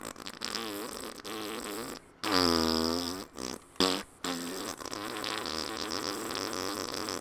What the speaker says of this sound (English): This guy looks like he's farting, and he's dead.